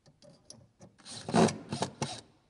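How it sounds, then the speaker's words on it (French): A screw is driven into a wall plug to fix a renovation roller-shutter rail beneath a lintel, producing grinding, rasping bursts that build into several loud, close pulses over a couple of seconds. "maintenant on va directement visser"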